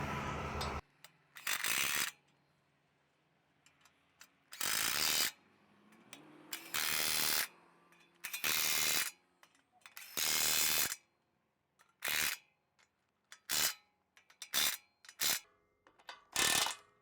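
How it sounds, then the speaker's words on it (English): An impact wrench tightens the bolts that secure a knife to the cutter drum of a New Holland 1915 cutter. It rattles in about a dozen loud, separate bursts of varying length, with silent pauses between them. "go back and sink all the rest of the bolts the rest of the way in order to secure the knife all the way to the"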